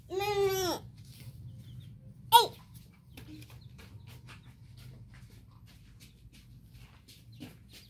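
A chicken gives a loud burst of clucking at the start, then a sharp squawk, followed by quieter scattered clucks over a low background hum.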